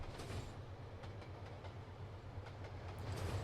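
A train passes in Trainz Simulator 2 on the Razorback route, its wheels clicking rhythmically over rail joints above a low rumbling drone, close by and steady, with no one speaking.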